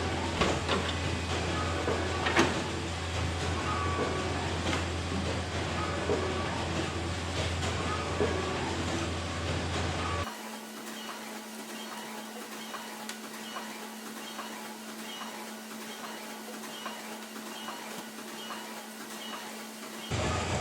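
A Canon Varioprint 115 production printer runs with a steady mechanical rumble and whirr, shifting abruptly halfway to a quieter, thinner drone with a constant tone.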